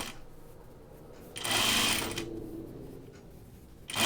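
Sewing machine hemming a tunic, running in one short burst of rapid stitching, then easing into a lower whir and starting again at the end, with quiet pauses between.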